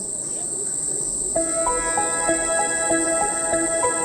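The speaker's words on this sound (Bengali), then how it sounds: "তোমরা যদি খুব ভালো করে শোনো তাহলে দেখো পুরো ঝিঝি পোকার ডাক" A steady, high-pitched insect drone of crickets in a deep forest fills the background throughout; partway in, a series of tonal beeping notes begins over it.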